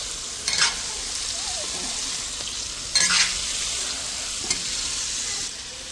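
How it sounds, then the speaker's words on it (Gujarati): Gentle stirring of boiled cluster bean curry in a pan, a soft steady sizzle with three brief scraping strokes of the spoon spaced a couple of seconds apart. "અને આના ધીમે ધીમે હલાવી લેવાનું, બહુ હલાવીએ ને તો ભાગી જાય શાક"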